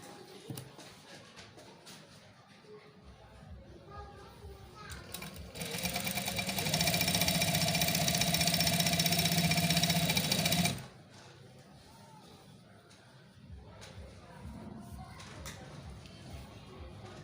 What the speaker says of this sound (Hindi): अब हम इसकी सिलाई लगाएंगे। यहाँ से डबल सिलाई लगानी है।